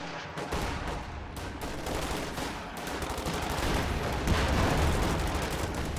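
Rifle fire in a video game battle between riflemen and grenadiers, a dense continuous crackle of many overlapping shots with distant heavier booms, steady and loud throughout.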